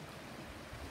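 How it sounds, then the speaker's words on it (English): Rushing water from a small waterfall on the Jerome Fork River in a wildlife park, a steady broadband wash with low churning rumble, continuous and fairly close. "A waterfall, so you can see down the end there, a nice little waterfall."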